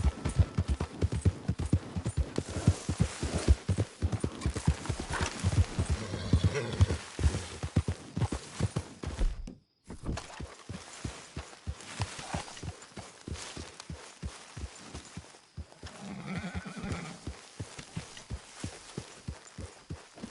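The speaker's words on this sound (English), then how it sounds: "Careful with that horse, Arthur" Steady clip-clop of horse hooves trotting close by in the video game Red Dead Redemption, with a brief whinny later on, over faint background ambience.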